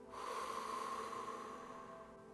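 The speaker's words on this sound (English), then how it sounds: "Let's wind down from the week by taking a nice deep breath" A single long, steady exhale from a deep breath during a relaxing breathing exercise, soft and close with a gentle airy hiss that fades slowly.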